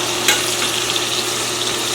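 Pork chop sizzling steadily in a pan, a continuous crackling hiss with one brief scrape or turn near the start, no voices.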